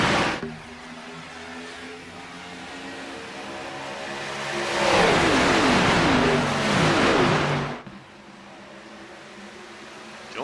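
A field of race cars in the iRacing sim roars off at the green flag at Chicagoland, a dense engine drone swelling to a loud rushing peak midway, then cutting back to a lower hum.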